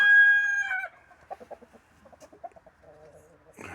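A rooster crows loudly at the start, followed by a series of soft, scattered clucks from several chickens close by.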